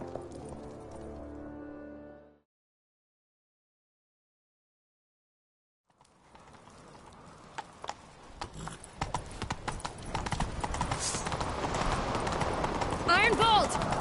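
Hooves clip-clop rhythmically as a horse gallops in a PS4 video game, rising out of a brief musical passage and a few seconds of silence into a steady, fast beat that grows louder toward the end.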